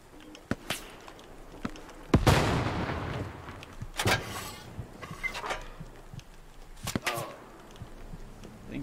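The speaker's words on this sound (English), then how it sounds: "An AT gun." Heavy gunfire booms from an anti-tank gun in the shooter game Hell Let Loose: a sharp, loud blast with a long rumbling tail, then further thumping shots and scattered battlefield cracks, with no talk.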